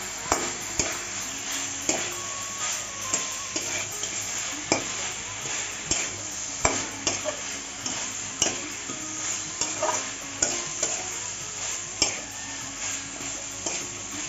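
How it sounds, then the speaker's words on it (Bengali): Fried rohu fish bones being sautéed in an oily pan, a continuous sizzle punctuated by regular scraping knocks of a spatula against the pan, roughly once a second. "মাছের কাটাগুলি ভেজে রেখেছিলাম দিয়ে দিচ্ছি দিয়ে একটু কষিয়ে নেবো"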